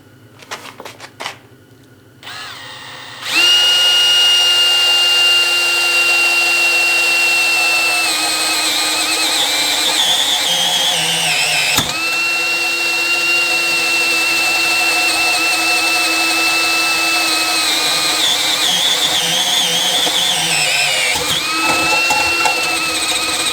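Power drill boring into square steel tubing: after some brief clatter, a loud sustained motor whine with a grinding metal bite, pausing briefly near the middle and again near the end before running on.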